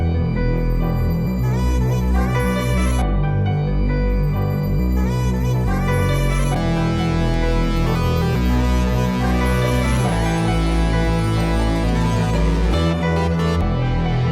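Layered synth lead patterns in a looping beat, one plucky line plus a second drenched in reverb at the loop's end, steady and up front over drums with no voices.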